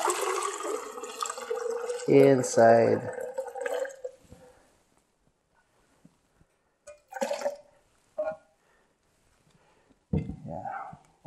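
C41 photo developing chemicals from a CineStill CS41 two-bath kit poured into a container, a gurgling, splashing pour near the start followed by a few short splashes and clinks, with brief speech.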